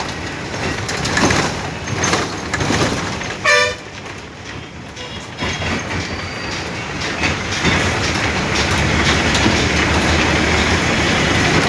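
A train rumbles along the track with a steady, continuous roar, and a short horn toot sounds briefly early on.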